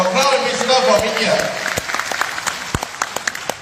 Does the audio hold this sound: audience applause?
yes